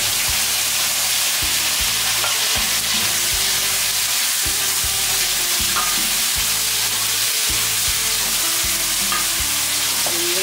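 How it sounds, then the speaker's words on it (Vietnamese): Tomatoes sautéing in oil left over from frying fish, a continuous close sizzle broken by regular rhythmic stirring knocks and scrapes of a utensil in the pan. "mình để cà vô mình xào."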